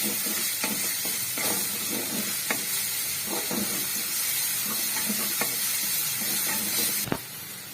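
Ginger, garlic and green chili paste frying in a pan for chicken karahi, a continuous sizzling hiss with a string of light utensil clicks and stirs, and a sharp knock near the end.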